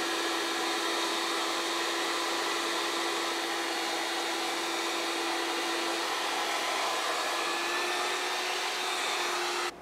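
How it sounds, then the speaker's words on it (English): Electric heat tool blowing hot air onto the nut of a Canadian-made Gibson guitar to loosen it, a steady, close, hair-dryer-like whoosh with a constant tonal hum that runs unbroken for about ten seconds. "I'm going to heat that nut and take it out because we're doing a compensated nut."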